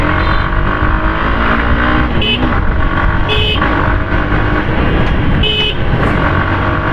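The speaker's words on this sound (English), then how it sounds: "Hero motorcycles are tuned for the Indian roads, and this is not a slouch either. So let's accelerate here." A Hero motorcycle accelerates on an Indian road, its engine droning loudly and continuously with rising pitch, and a few brief horn toots from nearby traffic cut through.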